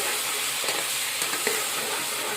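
Onions frying in a pan until reddish make a steady, close sizzling hiss with a few faint stirring scrapes, and no one talks.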